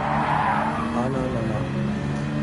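Tires squeal in sustained oversteer from a race car in Gran Turismo 7 at Watkins Glen, a loud continuous screech over a droning engine note lasting the whole moment.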